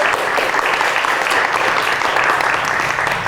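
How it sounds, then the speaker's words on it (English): Steady, loud audience applause fills the room at a church gathering marking 250 years of African American, Quaker and AME history, with continuous clapping and no break. "you can clap if you want to."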